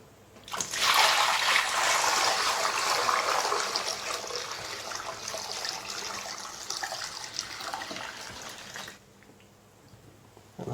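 Water gushes from the pour spout of an O-Cedar EasyWring mop bucket into a plugged sink, a loud continuous rushing splash that gradually eases, then stops abruptly near the end.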